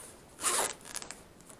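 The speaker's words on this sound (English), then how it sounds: "it just zips off like so" Zipper on an action camera carrying case pulled open in one quick, loud zip, followed by fainter rustling and small scrapes of the fabric case.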